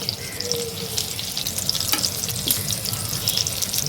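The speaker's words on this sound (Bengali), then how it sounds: "এই পাশটা ওরকম করে করে আমি ভেজে নেব" Pointed gourd (potol) frying in oil in a pan for potol korma, a loud, continuous crackling sizzle with a few stirring scrapes, close up and with no speech.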